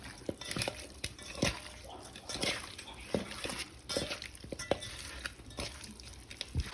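Wet, squelching mixing sounds with irregular soft clicks and taps, close by, as masala is worked by hand or spoon into chicken pieces for biryani.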